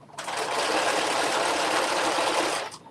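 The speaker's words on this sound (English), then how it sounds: "and then I'm just doing a back stitch" A sewing machine runs a back stitch along a shirt seam, its fast even whir continuous and close for nearly three seconds, starting and stopping abruptly with no talk over it.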